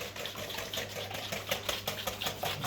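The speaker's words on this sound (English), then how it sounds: "You whisk it in, and I'll grind away." Salt and pepper being ground with a hand grinder into Yorkshire pudding batter: a steady, gritty rhythmic crunching in quick repeated strokes, close and moderately loud.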